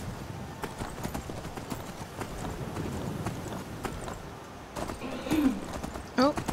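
Horse hooves clip-clop at a steady trot, close and clear, with a short whinny-like call toward the end, in the video game Skyrim.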